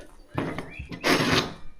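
A camper van door being opened during a DIY conversion gives a close clunk and latch rattle followed by a longer scraping, sliding rush, loud and alone.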